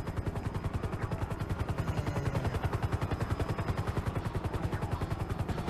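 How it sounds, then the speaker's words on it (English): Sustained automatic gunfire in GTA 5 played in VR: a steady, rapid run of loud, close shots that keeps an even rhythm throughout. "I'm being shot at."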